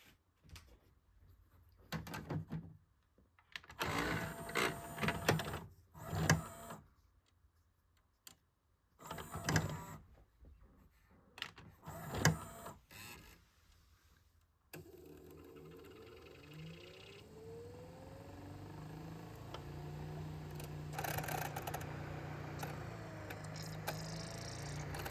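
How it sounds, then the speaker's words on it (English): A Mitsubishi M-V6022 LaserDisc player loads a disc with a run of clunks, motor whirs and mechanical thumps in uneven bursts. These give way to a steady hum and a rising spin-up whine, close and moderately loud. "now let's throw in a laser disc."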